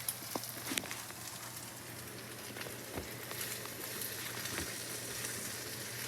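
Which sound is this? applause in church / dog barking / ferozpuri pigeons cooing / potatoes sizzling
potatoes sizzling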